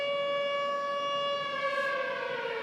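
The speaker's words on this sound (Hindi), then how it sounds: "तो तेल अवीव में हमले के सायरन लगातार बज रहे हैं" Air raid warning siren in Tel Aviv, a loud steady wailing tone with strong harmonics holding continuously and sliding slightly down in pitch toward the end.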